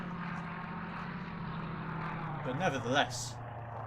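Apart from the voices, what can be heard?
enemy aircraft flying overhead, video game Silent Hunter III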